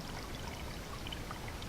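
Clean water trickles steadily into a hand-dug water hole at a wilderness campsite, a soft continuous pour close by with no talking.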